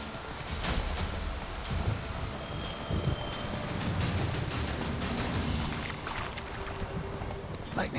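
Steady heavy rain with a low rumbling roll of thunder from a lightning strike in The Witcher 3: Wild Hunt, a continuous dense wash of downpour throughout with faint background game sounds.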